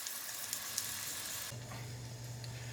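Vegetables sizzle steadily in a hot pan, cooking down for lentil soup, a close continuous frying hiss with a low hum joining partway through.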